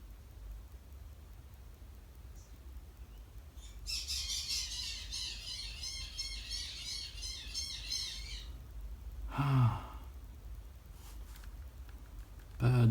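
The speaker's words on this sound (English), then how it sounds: "Birds, why are you so noisy?" Birds squawk noisily outdoors in a dense burst of repeated calls over steady background noise, with a few louder thumps and a voice speaking near the end.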